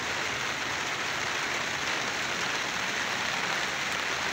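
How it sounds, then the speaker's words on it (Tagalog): Steady rain falling outdoors, a dense, even hiss of drops on surfaces that holds unchanged throughout, with thunder and lightning nearby and no voices. "Ayan, umulan po siya, guys."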